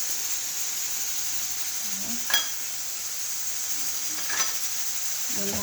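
Meat for sambusa filling seasoned with coriander and salt, frying with a constant hiss in the pan, stirred in two brief clanking bursts of utensil on metal, no talking.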